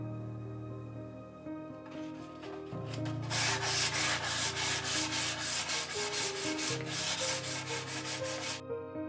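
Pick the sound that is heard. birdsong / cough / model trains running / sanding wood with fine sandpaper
sanding wood with fine sandpaper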